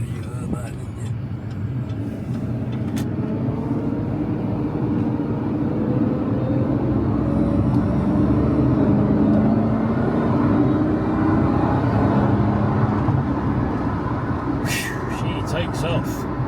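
Jaguar S-Type R pulling away on an open road, a steady broad engine and road roar building gently and holding near and loud for the whole stretch, with no talk over it.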